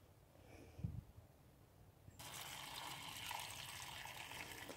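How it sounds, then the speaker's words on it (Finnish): Water from a watering can pours onto freshly planted seedlings: a quiet opening with a soft thump, then a steady, fairly close splashing gush that continues to the end, with no voices. "sinne laitettiin vettä"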